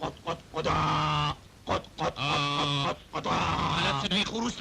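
A human voice imitates a hen clucking, making a series of choppy, nasal bursts close to the listener. Short pauses separate a few clustered clucks.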